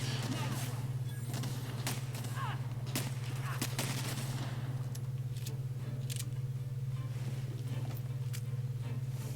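Gunfire from a gun in The Outer Worlds video game: a scattered series of sharp, fairly faint shots cracking at irregular intervals over a steady low electrical hum.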